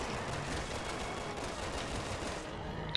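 Gunfire in the Resident Evil 6 video game: a dense, rapid stream of shots and reports, loud and continuous for a few seconds with no talk.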